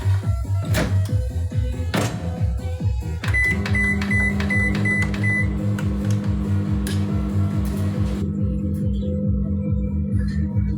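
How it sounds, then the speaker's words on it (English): A microwave oven runs steadily for about ten seconds with a constant low hum, joined by a few clicks, short beeps and a faint rattle near the start; no one speaks. "just put it in the microwave"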